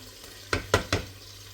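Crushed garlic hits a hot frying pan for mutton yakhni pulao, giving three short, loud sizzling bursts about a fifth of a second apart over a low steady hum, close by, with no talk.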